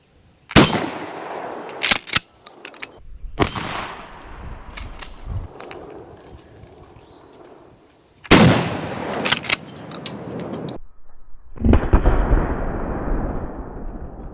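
A Mossberg 590A1 Retro 12 gauge pump shotgun fires at an outdoor range, loud sharp blasts in irregular clusters, each followed by a metallic ring and short echoing tail, with quieter handling noise between shots.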